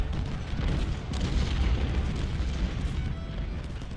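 Artillery firing explosive rounds in Ultimate General: Civil War, a dense continuous rumble of booms and blasts layered into a steady roar, loud and sustained without clear gaps.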